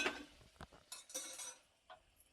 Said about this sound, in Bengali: এবার আমি নাড়াচাড়া করে নিচ্ছি।